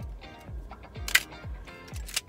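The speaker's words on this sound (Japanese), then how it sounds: "シャッターは切れるんだけどね。" Shutter release on a junk Minolta α9000 film SLR, heard as several separate mechanical clicks spaced about half a second apart, each with a short low thump and a few sharper high snaps, recorded close and without talk.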